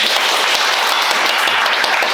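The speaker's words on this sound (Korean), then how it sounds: "오래 해주셨으니까 박수 한번" An audience claps after a lecture in a hall, with dense, loud, steady applause throughout and no talking.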